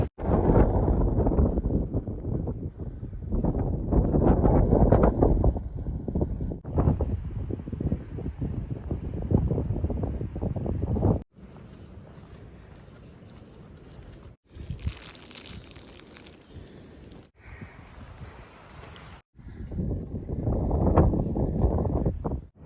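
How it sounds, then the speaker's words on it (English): Wind blowing around an enclosed shelter on the Appalachian Trail, a loud, roaring rush that swells and drops in long gusts, shifting between heavy buffeting and quieter hollow stretches, with no one talking. "you might be able to hear the wind"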